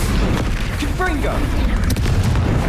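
A Confringo fire spell blast in Hogwarts Legacy erupts as a loud, sustained fiery boom with crackling bursts during combat, under a brief tonal voice.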